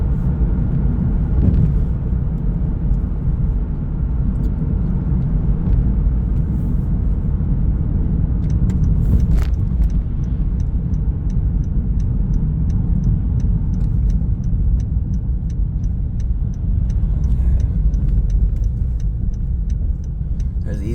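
Steady engine drone and road rumble from inside a moving car on a border-crossing road trip, continuous and fairly loud, with a faint rhythmic ticking like a turn signal in the latter half.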